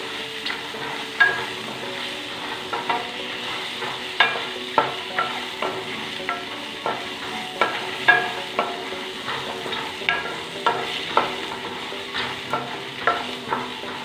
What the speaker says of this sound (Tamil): அப்புறம் ஒரு சின்ன தக்காளி, எல்லாமே சிம்மில் வச்சு வதக்கிக்கலாம்.